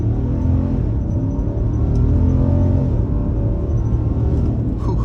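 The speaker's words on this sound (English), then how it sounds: "We'll try an acceleration off the line, come to a complete stop, and we're just gonna mash the pedal" A 2022 Nissan Titan Pro-4X truck launches hard from a full stop, its engine a loud, deep, continuous rumble that holds steady throughout with no breaks.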